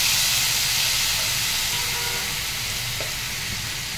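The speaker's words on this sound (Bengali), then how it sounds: "এর মধ্যে পেঁয়াজ, আদা আর কাঁচা লঙ্কা পেস্টটা করে নিয়েছি, ওটা আমি তেলের মধ্যে দিয়ে দিলাম।" A paste of onion, ginger and green chilli sizzles in hot oil in a home kitchen, a steady loud frying hiss with faint stirring scrapes and no voices.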